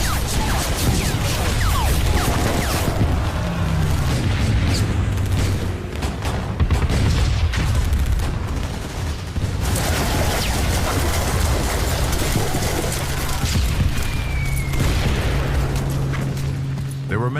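Battle effects from the Omaha Beach landing on D-Day, with rocket launchers, mortars and machine-gun fire, form a dense, continuous roar of booms and blasts throughout. A narrator talks over much of it.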